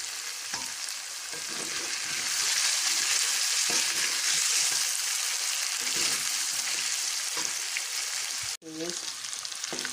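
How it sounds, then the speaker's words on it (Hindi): Chicken pieces frying in hot oil together with onions, a steady dense sizzle with stirring scrapes throughout, close and fairly loud, briefly cut near the end. "मैंने 10 से 12 मिनट तक चिकन को फ्राई किया है"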